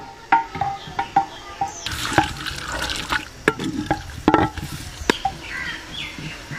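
Garlic cloves, an inch of ginger and onion fry in a pan for mutton haleem. A close, steady sizzle runs under sharp, irregular clinks and scrapes of a spatula, with a few louder hissing bursts.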